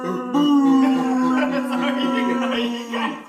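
A person imitates a wolf howl with one long, sustained, steady-pitched voiced tone lasting about three seconds, loud and close, with other voices faintly mixed in behind it.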